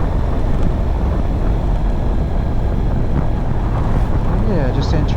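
Strong wind roaring over the microphone during a motorcycle ride on a coastal road in Suffolk, a loud, steady, buffeting rumble throughout with a voice speaking faintly beneath it.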